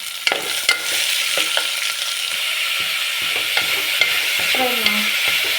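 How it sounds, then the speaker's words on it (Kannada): Carrot fries in a pan with a steady bright sizzle. Occasional spoon taps and scrapes break through it, and a short metallic scrape-squeal comes near the end. "ಕ್ಯಾರೆಟ್, ಫ್ರೈ ಮಾಡ್ಕೊಳ್ಳೋಣ"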